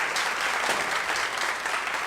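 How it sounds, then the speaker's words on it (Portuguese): Brief burst of dense, even applause from a church congregation, sustained at moderate volume without voices. "Pode aplaudir para o Senhor."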